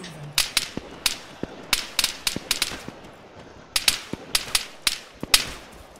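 Gunfire in the military shooter Arma 3: sharp, cracking shots ring out in irregular bursts and single reports, some loud and close, others fainter, with no speech over them.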